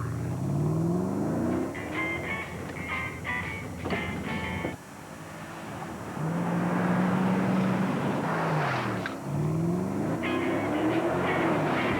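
A Porsche Cayenne SUV features in a TV commercial aired during a 2003 Big Ten basketball tournament broadcast, its engine heard revving and accelerating in repeated rising sweeps over a music bed, loud and continuous.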